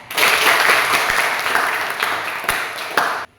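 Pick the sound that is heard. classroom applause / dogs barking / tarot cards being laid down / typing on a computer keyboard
classroom applause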